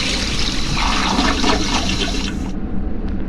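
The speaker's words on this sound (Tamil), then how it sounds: "ஃப்ளஷ் பண்ணிட்டான்டா ஒரு வழியா உள்ள போயிடுச்சுடா." A toilet flushes inside a Roblox game, a loud rushing swirl of water that runs steadily for about two and a half seconds before cutting off abruptly, leaving a faint tail behind.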